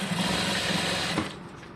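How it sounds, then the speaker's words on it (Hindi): A sewing machine stitches around a boat neckline, whirring steadily and close up before slowing and fading out near the end. "हम सिलाई बिल्कुल इक्वल लगाते चलेंगे"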